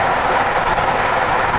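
A local train running from Heidelberg to Mannheim gives off a loud, continuous rumbling roar, steady and unbroken throughout the brief moment, with no voices.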